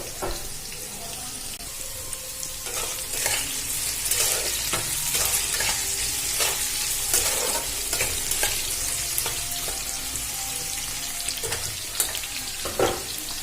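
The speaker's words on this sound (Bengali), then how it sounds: "আমি আলুগুলো লাল লাল করে ভেজে নেব।" Potatoes fry in hot oil until browned, with a constant sizzle and frequent scraping and tapping of a stirring utensil against the pan, close and fairly loud.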